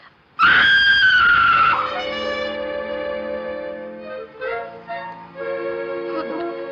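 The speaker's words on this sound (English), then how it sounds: "Somebody screamed." A woman's high, sustained scream in a 1942 mystery film rings out loud and sudden, then fades into swelling dramatic orchestral music.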